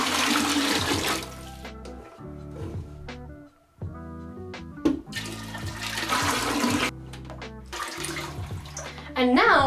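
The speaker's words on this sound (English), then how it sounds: "pour a little bit of this water into here, swish it around so it can get as clean as possible." Water sloshes and swishes around inside an emptied Cascade canister filter from a turtle tank, in several loud, splashy bursts broken by brief pauses and small clunks of the container being handled.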